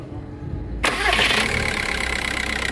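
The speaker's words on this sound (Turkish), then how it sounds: "Hemen şimdi size sıcağı sıcağına marşa basalım." A car engine cranks and fires after a flywheel replacement and starter overhaul, bursting abruptly from quiet into a loud, steady idle that continues close to the microphone.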